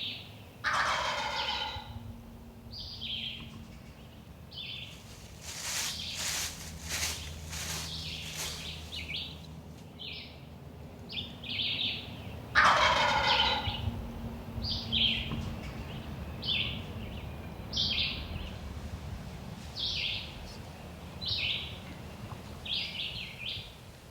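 Wild turkeys gobble repeatedly in open woods during a hunt, several rattling calls rising from moderate distance with short pauses between bursts, some overlapping, over a quiet outdoor background.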